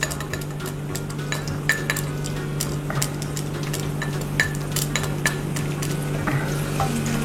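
Shallots and garlic frying in hot oil in a pan, a steady crackling sizzle with scattered sharp clinks of a utensil stirring against the pan, close up and continuous with no talk.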